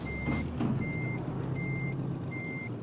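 A truck in Euro Truck Simulator 2, from a military mod pack, idles with a steady low engine rumble while a reversing alarm beeps four times at an even pace over it.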